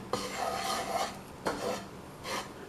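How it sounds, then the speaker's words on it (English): Gravy being stirred in a pot in a home kitchen, a utensil scraping and rubbing against the pot in three separate passes, close and moderately quiet, with no talking. "Just want to stir this gravy right quick"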